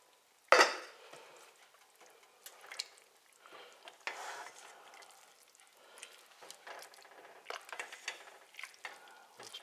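Dirty rice cooking down in a pot, stirred with a utensil: a sharp clank at the start, then soft scraping, light bubbling and intermittent spoon-on-pot knocks, close and moderately quiet with no talk.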